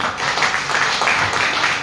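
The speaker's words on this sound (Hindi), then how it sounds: "एक जोरदार तालियां।" Audience clapping at a wellness company business seminar, a short burst of many hands applauding together at a strong, steady level.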